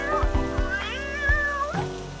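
A cat gives a drawn-out, wavering meow, clear and close, over a faint patter of rain.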